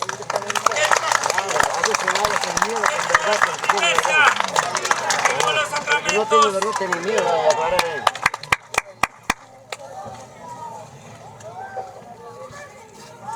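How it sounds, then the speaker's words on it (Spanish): A church congregation clapping hands for Jesus at a sermon, fast rhythmic claps repeating under a preacher's loud voice and thinning to a few sharp claps near the end. "Dale palmas esta tarde a Jesús."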